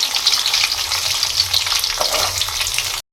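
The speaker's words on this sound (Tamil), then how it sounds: "இப்போது அது லைட்டாக வதங்கினதும் நம்ம வெங்காயம் ஆட் பண்ணிடலாம்" Onions sautéing in hot oil with fenugreek seeds, a loud, dense, close sizzle and crackle with stirring throughout, steady for three seconds before cutting off.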